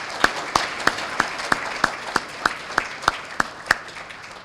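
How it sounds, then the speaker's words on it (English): A crowd applauds student speakers at a civic day event, a continuous soft wash of clapping with about twelve sharp, evenly spaced claps from one nearby person standing out above it. "Have a round of applause for those 4 student speakers and all of our students."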